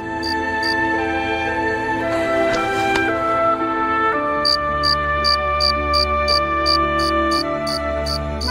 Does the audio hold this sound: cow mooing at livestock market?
no